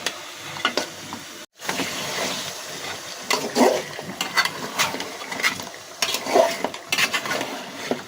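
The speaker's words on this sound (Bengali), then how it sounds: "আমি মাংসগুলো ততক্ষণ পর্যন্ত ভাজবো যতক্ষণ পর্যন্ত পানিগুলো শুকিয়ে না যায়" Pieces of beef fry in a pan while their released water cooks off, a continuous hiss with repeated scraping and clanking as the meat is stirred. A brief silent gap comes early.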